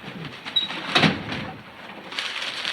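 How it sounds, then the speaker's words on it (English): A door is closed inside a house on a cold night, giving a single brief, fairly close thump about a second in against quiet room tone, with no talking. "Close the door, George."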